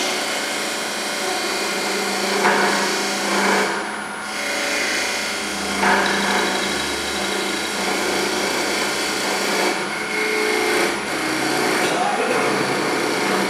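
A wood lathe whines steadily as a parting chisel cuts a recess into the edge of a spinning workpiece. The motor tone holds close and loud throughout, with faint scraping swells from the cut.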